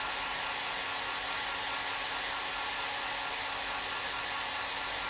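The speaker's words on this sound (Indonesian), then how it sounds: "Kenapa sih mau tau hair dryer aku?" A hair dryer runs steadily and loudly at close range, a continuous broadband roar with a faint motor whine throughout and no voices.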